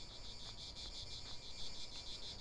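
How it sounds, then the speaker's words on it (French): Cicadas drone in the Farming Simulator 15 video game, a steady loud high-pitched buzzing chorus with faint pulsing, continuous and alone with no talk. "C'est vrai que je trouvais que le bruit des cigales était extrêmement fort."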